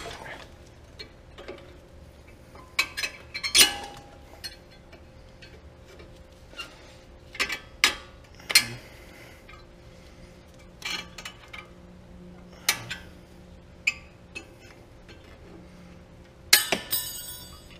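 Metal clicks and clinks from prying a brake caliper retaining clip off a 2011-2018 Ford Focus: scattered sharp taps and scrapes in bursts over a quiet background, close and fairly faint, with no talking.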